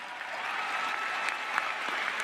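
Indoor evening graduation ceremony crowd applauding faculty and staff, a dense, even wash of clapping hands that holds steady throughout.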